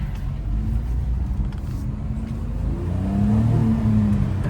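A Fiat 500 accelerates, its engine note droning and rising steadily from inside the cabin under constant road noise, loud and continuous throughout.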